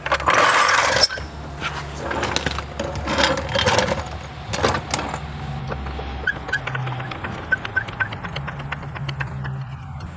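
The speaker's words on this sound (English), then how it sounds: "Now we're going to jack it up." A Ford Mustang (2005-2014 S197) being raised with a car jack, with repeated mechanical clicks and ratcheting clatter over a steady background hum, fairly loud and close.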